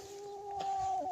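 A hen perched over a pair of eggs gives off a soft, sustained vocal call with steady tonal lines, close and fairly quiet, with no talk over it.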